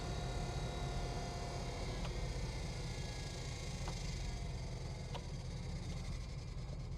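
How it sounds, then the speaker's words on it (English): A steady, low buzzing hum from the blower motor of a 1967 Pontiac GTO convertible drones on unchanged, with faint ticks over the continuous tone. "That little blower motor still buzzing away happy too."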